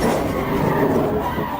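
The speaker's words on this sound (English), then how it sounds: "The black Mercedes spun out" A black Mercedes skids and spins out after a police PIT maneuver on a roadside, a loud, sustained rumble of tires and engine noise filling the short moment.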